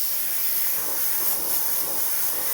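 An airbrush lays down paint on a detailed Ayrton Senna artwork, putting out a steady, close, even hiss of compressed air and spray that holds unbroken with no voices.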